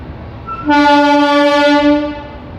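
The 13145 Kolkata–Radhikapur Express sounds a single loud, sustained horn blast at Kolkata station as it departs, rich in harmonics, starting abruptly, holding about a second and a half, then fading.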